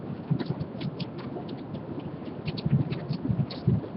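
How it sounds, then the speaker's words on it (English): Pea-sized hail, with a few marble-sized stones, falls steadily during a storm with frequent lightning, making a dense, continuous pattering with scattered sharper ticks and impacts. "Looks to be pea-sized hail."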